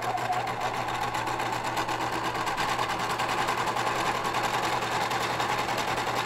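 A sewing machine stitches a luchador mask in a continuous, steady mechanical whirr at close range, with no pauses and no voices.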